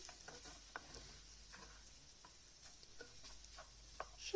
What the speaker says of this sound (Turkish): Tekrar iyice karıştırıyorum